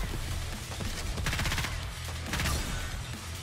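Rapid bursts of gunfire from a shooting game played on a phone, dense crackling volleys in two main clusters over a continuous background, no talk.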